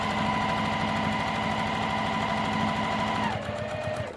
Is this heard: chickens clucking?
no